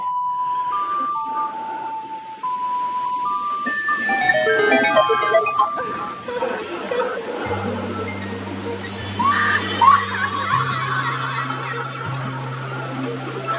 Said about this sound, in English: That is the most aggressive laugh. It's like a screaming laugh.